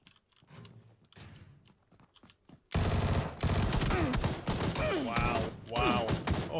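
Automatic rifle fire in PUBG Battlegrounds, quiet clicks and handling noises at first, then a sudden loud sustained burst of rapid shots with short pauses between volleys; a voice can be heard faintly beneath.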